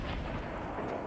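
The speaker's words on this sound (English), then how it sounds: "Someone's got a rocket launcher." Rocket launcher fire in the Fortnite Battle Royale video game: a dense, booming blast that fills the whole brief moment at steady loudness, with no talking over it.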